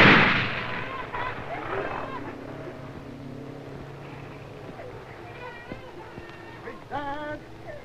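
Soldiers fire a volley of gunfire on command in 1963 South Vietnam footage, a loud burst that fades into ringing echoes, with a shouted voice and a few more sharp cracks later.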